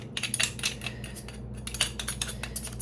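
A metal knife scraping bits of garlic out of a press or bowl while making bean soup, a quick run of close, bright metallic scrapes and clinks in irregular bursts.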